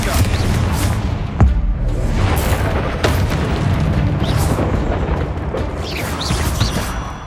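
Confringo explosive spell blasts in Hogwarts Legacy, heard as a series of loud, close booms amid continuous rumbling combat noise, with a voice calling out through part of it.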